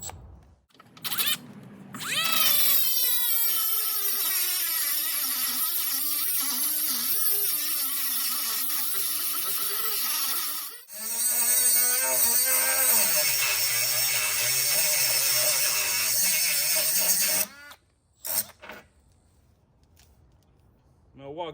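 A Milwaukee power tool cutting on a jet ski trailer during hub and spring replacement, with loud sustained whining bursts of shifting pitch, broken by short pauses, and some talk around it.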